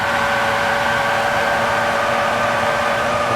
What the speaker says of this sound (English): I just felt like I was hearing another engine noise really close to me